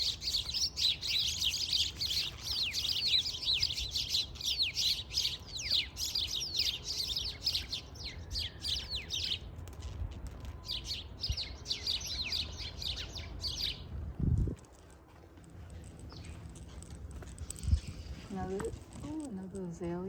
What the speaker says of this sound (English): the birds love being in those trees